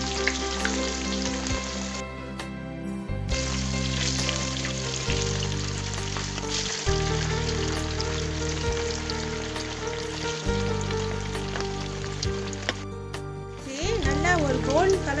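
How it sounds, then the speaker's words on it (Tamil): Egg tofu pieces fry in hot oil until golden, a steady close sizzle and crackle running the whole time with brief stirring, under music and some talk. "நல்லா ஒரு கோல்ட் கலர் வர்ற வரைக்கும் நம்ம பொரிக்கலாம்."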